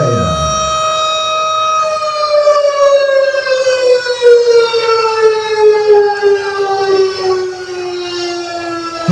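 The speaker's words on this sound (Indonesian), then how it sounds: "baru saja kita saksikan pembukaan MTQ Aceh ke-37 secara resmi ditandai dengan sirine yang menggema" A civil defense style siren wails at the official opening ceremony of the 37th MTQ Aceh in Pidie Jaya, a loud sustained tone gliding slowly downward with rich harmonics for the whole stretch, heard alone without talk.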